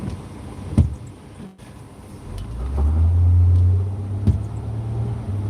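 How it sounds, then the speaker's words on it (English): Road traffic in a hurricane-season setting, with cars driving past: a broad, low rumble swells as a vehicle passes close by mid-clip, then a steadier engine drone continues, with a few sharp knocks and no talk. "A lot of traffic on the road."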